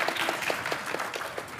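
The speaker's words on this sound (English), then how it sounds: "Thanks so much for that applause." Audience applause at a 2022 MWC Las Vegas policy panel session, a short, steady patter of many hands clapping in a large room with no talking over it.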